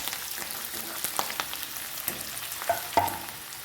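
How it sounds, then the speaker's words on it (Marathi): Green chillies sauté in hot oil with garlic in a pan, a steady low crackling sizzle with scattered sharp pops and spatula scrapes, close by with no talking. "मिरच्या पण आपल्याला छान परतून घ्यायच्यात बघा तेलावर"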